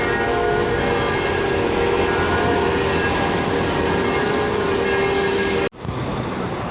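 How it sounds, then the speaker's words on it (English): A tram in Vienna, Austria rumbles loudly past close by in a steady, continuous roar that cuts off abruptly near the end. "Bells and trams."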